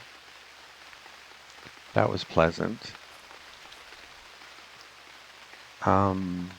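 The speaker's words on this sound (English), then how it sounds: "building a shelter made it rain instead of making it stop raining" Soft, steady patter of rain in the video game UnReal World continues throughout at low volume, with a person speaking briefly over it.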